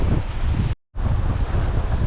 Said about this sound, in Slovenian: Veter je malo padel na 25 vozlov, valovi so se tudi malo umirili